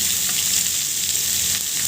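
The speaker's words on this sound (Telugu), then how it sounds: "ఒక 2-3 నిమిషాలు ఇలా ఈ ఆయిల్లోనే మగ్గనివ్వండి" Squeezed green beans frying in oil in a pan, a steady, close hiss and sizzle that holds evenly throughout, with faint stirring scrapes.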